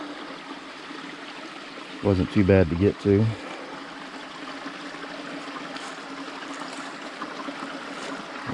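Mountain stream flowing through an Appalachian forest in North Georgia, a soft continuous trickling wash with someone speaking briefly over it before the water carries on alone.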